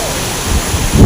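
Water spray falling at Bikkanappalli waterfall in Krishnagiri gives a brief, steady broadband rush with a low rumble that swells toward the end.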